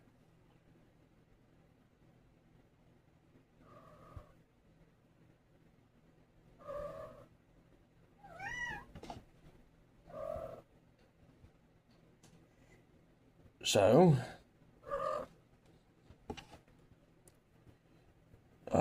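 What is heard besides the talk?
cat purring and meowing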